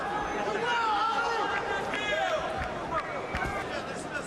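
A Russian boxing crowd at the Holyfield vs Ibragimov fight cheers and chatters in a steady arena roar, with rising whistles and shouts over the din.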